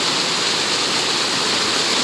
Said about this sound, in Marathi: पूर्ण बांधारा तुटलाय. आणि पाणी जाम येईल.